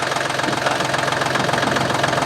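A Kubota L2250 tractor engine idles steadily after a water pump replacement, a loud close rhythmic diesel chug with a constant knocking pulse throughout and no talk.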